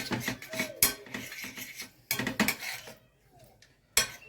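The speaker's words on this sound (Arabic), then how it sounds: "غادي نخلطوا المقادير ديالنا كاملين مع بعضياتهم باش يتمازجوا لنا المكونات على هذا الشكل هذا" Chicken marinade ingredients are mixed in a bowl with a utensil, producing quiet intermittent clinks and scraping knocks against the bowl in uneven bursts, close by with no speech.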